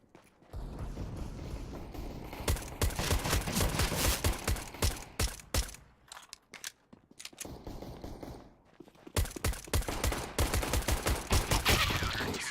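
Rifle gunfire in CS:GO on the Dust2 map, rapid bursts of close, loud shots in clusters with short gaps, a brief lull mid-way before more sustained spraying resumes, with footsteps faintly between bursts.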